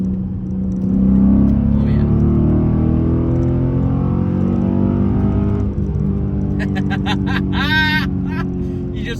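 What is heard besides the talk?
Dodge Challenger SRT8 accelerating hard to pass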